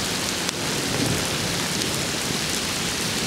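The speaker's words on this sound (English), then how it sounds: "there's been these terrible storms happening all around us" Heavy rain pours in a continuous loud roar during a thunderstorm around a flooded yard and road, broadband and steady with a faint rumble beneath and no talking.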